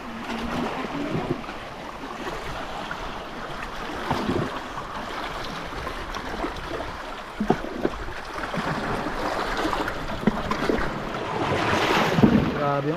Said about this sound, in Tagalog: Grabe yung alon mga idol.